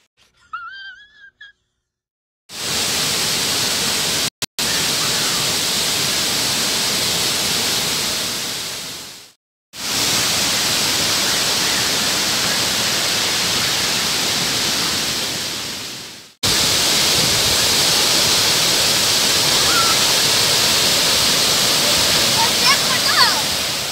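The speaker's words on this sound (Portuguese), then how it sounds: "o que vocês acharam aí, pessoal, da cascata aí, hein?" Cascata do Comandai waterfall pours in a steady, loud broadband roar that fills the clip, broken by brief dropouts, with faint voices at the very start before the water takes over; the day was stormy.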